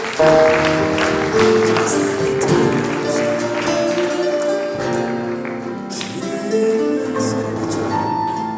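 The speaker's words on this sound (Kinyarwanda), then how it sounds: "Reka dukomere Imana amashyi ku ijambo rye." A church congregation claps together in a sustained burst of applause, fairly loud and continuous, with a faint musical tone and crowd murmur behind it.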